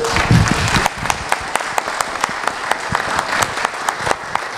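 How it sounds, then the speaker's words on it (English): An audience at a city council candidate forum gives the moderator, a former state representative, a round of applause: loud, close, sustained clapping from many hands with sharp individual claps standing out, fairly even throughout. "let's give her a round of applause"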